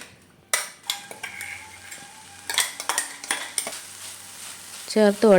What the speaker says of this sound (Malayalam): നമുക്ക് നന്നായിട്ടൊന്ന് മിക്സ് ചെയ്ത് കൊടുക്കണം.